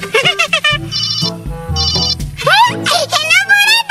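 A toy telephone plays a loud electronic ringtone in repeated bursts of high chiming tones, while children talk and laugh over and between the rings.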